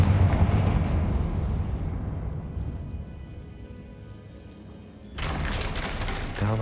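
A Confringo spell explosion in a video game bursts with a heavy roaring blast that rumbles and fades over several seconds before a second loud surge of noise hits.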